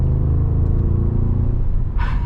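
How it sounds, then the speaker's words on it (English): An Audi RSQ8 Performance V8 engine rumbling on the move, a deep, steady low growl heard from inside the car, with a brief hiss near the end. "Man, that V8 just rumbles, man."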